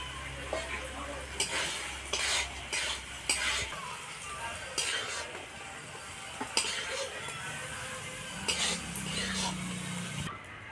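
Pui shak chorchori, a vegetarian Malabar spinach dish, sizzles in a pan while a utensil stirs it with repeated scraping clinks against the metal. A person talks over the cooking.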